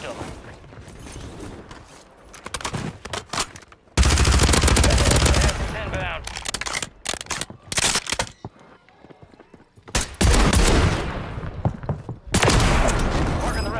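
Dual-wielded Reclaimer 18 shotguns firing in Call of Duty Warzone on Rebirth Island, loud blasts arriving in rapid clustered volleys with mechanical reload clicks between them, plus a player's voice talking over the action.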